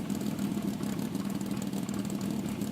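A six-pack Road Runner V8 idles steadily and close by, a constant low engine rumble with no revving.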